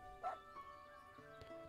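A dog in the farming video game Everdream Valley gives a single short bark, quiet and brief, followed by faint yips against a soft game soundtrack.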